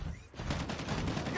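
Gunfire erupts in a Call of Duty Mobile multiplayer match, a rapid burst of close shots rattling in a steady, dense stream after a brief gap, with the player under fire.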